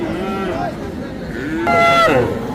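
Several young bull calves, Friesian and crossbred, moo loudly at Hazratpur cattle market, one long bellow rising over crowd chatter and other distant animal calls.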